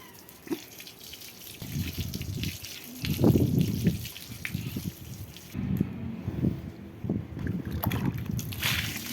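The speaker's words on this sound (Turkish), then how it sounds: "Şöyle üzerinden kaynamış suyu da döküyorum arkadaşlar." Boiled water splashes and pours over a carpet in uneven gushes, a close, wet, gurgling sound of moderate loudness with short pauses between pours.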